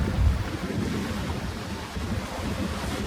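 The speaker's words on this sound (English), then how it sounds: "it's just the swell with a wave on top." Ocean swell and waves roll in steadily at Whitehaven Beach, a continuous broadband wash mixed with strong wind buffeting the microphone, heavy and unbroken with no voices.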